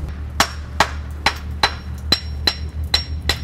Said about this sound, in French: Je suis en train de taper au marteau pour vérifier en fait si le béton sonne creux ou pas